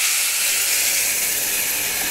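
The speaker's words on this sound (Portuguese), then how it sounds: "Vou colocar aqui uma panela de pressão" A pressure cooker on a home kitchen stove releases steam in a loud, steady hiss that holds constant without pauses.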